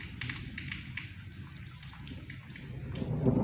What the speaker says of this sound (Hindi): बारिश आ रही है, बदल गज रहा है